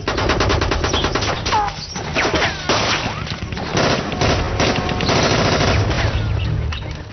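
Loud, continuous automatic gunfire in a battle scene from the film Dunkirk, rapid bursts of shots overlapping without pause, with heavy booms and clatter throughout.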